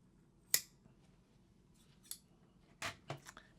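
Scissors clip into fabric seams of a kimono jacket where several seams meet, giving a few quiet, crisp snips spaced irregularly over a near-silent background.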